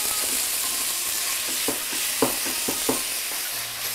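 Lean ground beef, ninety percent lean, sautéing in a pan for fried bulgur kibbe: a steady broadband sizzle with a few sharper scrapes and clacks of stirring, close and alone without talk.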